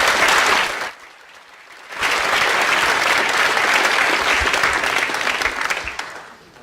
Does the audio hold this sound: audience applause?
yes